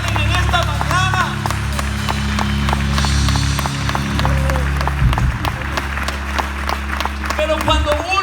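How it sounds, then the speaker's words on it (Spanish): A church congregation clapping hands in a fast, steady rhythm, a crowd's dense patter running throughout over sustained music, with a preacher's voice woven in. "Si esas palmas son para Él, déselas"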